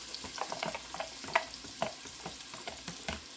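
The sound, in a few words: ground beef and onion browning in a Dutch oven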